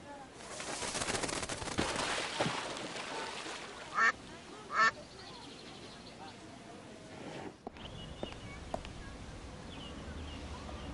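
Ducks quacking in the adventure game Secret Files 2: Puritas Cordis, two short, loud quack bursts in quick succession against a quiet ambient background, with a voice speaking around them.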